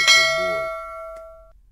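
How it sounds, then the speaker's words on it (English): A single bright notification bell ding strikes once and rings out with a clean metallic tone, fading smoothly over about a second and a half with nothing else around it. "hit that notification bell"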